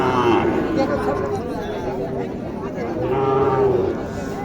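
Sahiwal cattle low and moo at a busy livestock market, close by, over a constant babble of crowd chatter and voices talking.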